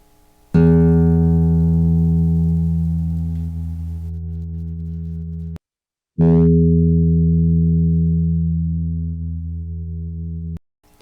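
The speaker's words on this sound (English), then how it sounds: "So this is starting to sound more like the original guitar note." A low E guitar string note rings out twice, each sustained for about five seconds and slowly fading, with a brief silence between plucks.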